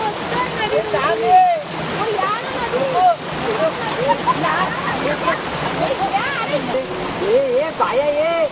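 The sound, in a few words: flowing river water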